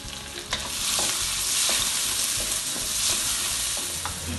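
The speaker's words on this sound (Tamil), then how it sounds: "இந்த காய்ஞ்ச மிளகாய கொஞ்சமாக எண்ணெய் ஊற்றி இந்த மாதிரி வதக்கிக்க வேண்டியதான்" Dried chillies, onion, ginger and garlic fry in a little oil in a pan, a continuous close sizzle broken by repeated scraping stirs, with no voices.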